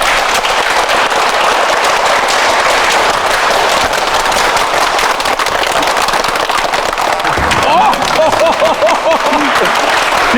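Studio audience on an Odisha reality show clapping hard in a clapping contest, dense, loud, relentless applause with crackling sharp claps, a voice briefly rising over it near the end.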